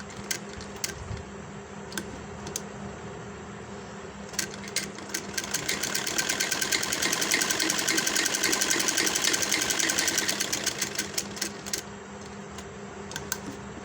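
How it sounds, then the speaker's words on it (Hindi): A sewing machine stitches a V-neck seam with close, even rapid ticking that speeds up and grows louder in the middle before slowing again, with a few isolated clicks at the start. "और ये दूसरा पार्ट होगा इस पर सिलाई लगाएंगे"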